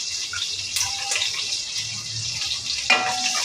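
Chopped garlic, ginger and chili hit hot oil in a pan, a close steady sizzle with a couple of sharper spatters.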